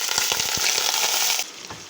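Strained lentils frying in hot oil as they are stirred, a loud dense crackling sizzle broken by scraping stir strokes, dropping to a softer sizzle near the end.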